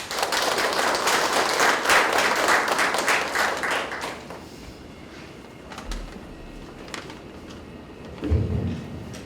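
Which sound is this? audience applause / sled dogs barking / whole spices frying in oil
audience applause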